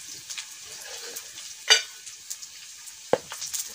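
Jackfruit pieces frying with turmeric and red chili in a pan give a low, steady sizzle with faint stirring scrapes, one sharper clink near the middle and a brief knock near the end.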